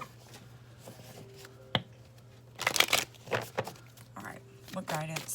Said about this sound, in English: Whoa, what kind of shuffle is that?